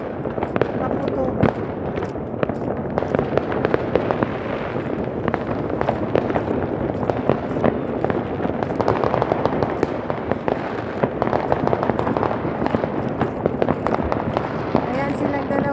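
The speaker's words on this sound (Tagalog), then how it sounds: "Grabe ang dami talagang paputok." New Year 2025 fireworks and firecrackers going off nonstop, a dense crackling barrage of sharp pops and booms near and far, with people chatting throughout.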